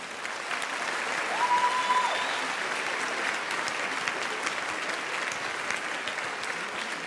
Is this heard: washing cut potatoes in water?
no